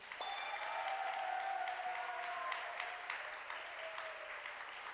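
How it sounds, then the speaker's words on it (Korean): Sustained crowd applause opening a youth mock trial competition fills the space, steady and even throughout, with some faint tonal ringing in the background. "박수와 환호로 열어주시면 고맙겠습니다"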